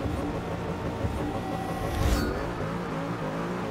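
A Corvette C7 GT3 race car engine roars on the Le Mans circuit in the racing game Forza Motorsport 6, a loud sustained drone with a brief rising surge midway and no talking.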